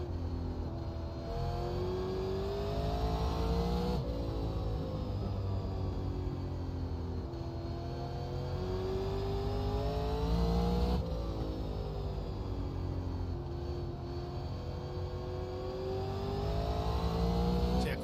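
Super Late Model stock cars lap the Lanier oval in the iRacing sim, engines droning and whining close by, pitch rising and falling smoothly as the throttle is worked across a continuous, loud run.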